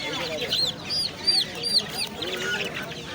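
Chicks and hens at a Bangladeshi poultry market stall, with repeated high chirps and clucks rising and falling over steady market background noise.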